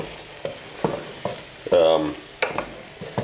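Mushroom filling for baked pierogi fries in pork fat or butter while a spoon stirs it, with soft scrapes and taps over a low sizzle that swells into one louder hiss midway.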